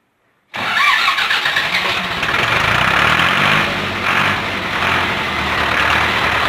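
An Ursus C-360 tractor's diesel engine cranks and catches abruptly after a moment of silence, following injection timing adjustment, then settles into a loud, steady, rattling idle close by.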